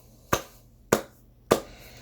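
Three sharp, isolated hand claps from one person, evenly spaced about half a second apart, close and crisp against a quiet room.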